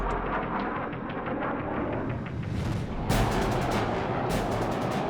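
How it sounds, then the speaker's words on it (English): An F-4 Phantom's M61A1 rotary cannon fires in dense, roaring bursts over a constant loud jet roar, the harsh crackle surging sharply midway and staying intense. "Now, Bob Titus flips the master arm switch for his M61A1 cannon"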